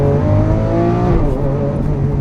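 A Lamborghini Aventador LP 700-4 V12 engine revs hard and loud up close, the pitch climbing, then dropping abruptly through a slow gear shift before pulling again.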